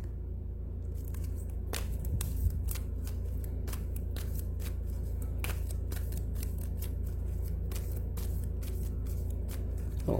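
Cards being shuffled and drawn for a song reading, a series of soft crisp snaps and flicks over a steady low hum, close and fairly quiet.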